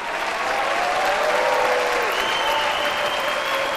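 Studio audience on a TV singing show applauds in a dense, continuous wave of clapping, loud and sustained throughout, with music tones faintly underneath.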